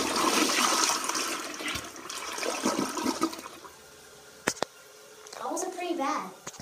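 A toilet flushes with a loud rushing swirl of water that tapers into gurgling and refilling, with a few sharp knocks and someone talking over parts of it.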